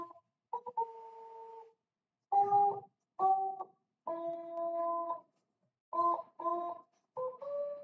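Tama Tone, a cute synthesizer instrument, plays short bright electronic notes in a bouncy sequence of brief beeps and sustained tones, clean and moderately loud, heard alone without speech.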